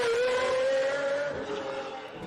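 A high-pitched Mercedes V12 car engine howls under hard revving, its tone holding steady and then dropping as the exhaust note fades slightly.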